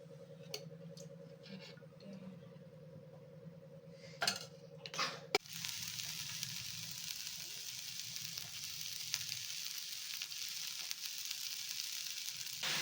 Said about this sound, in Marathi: तव्यावर भाजून घेणार नंतर वाटण करू